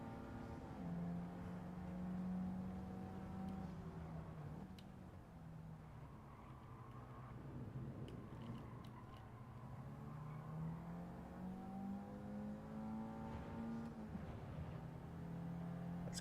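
Toyota Supra race car engine in Gran Turismo 7, a fairly quiet, steady engine drone with gently rising and falling revs and shifts, heard alone without talk.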